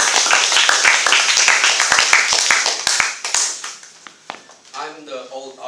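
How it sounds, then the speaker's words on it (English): A small class group claps for a few seconds, the sharp hand claps quickly thinning out, then a voice starts talking. "Let's give them a round of applause"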